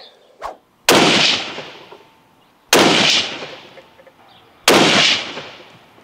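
A Springfield Armory Model 2020 Boundary rifle fires three loud, sharp shots about two seconds apart, each with a long echoing decay outdoors, after a faint click at the start.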